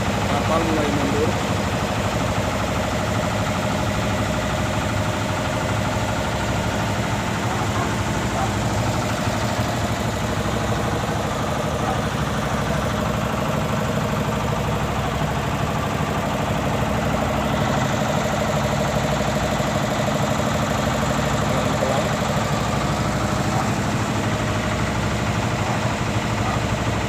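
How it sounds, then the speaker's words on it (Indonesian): A squid fishing boat's engine runs steadily as the boat backs away from the dock, a loud, constant low drone throughout. "Kapal mulai mundur."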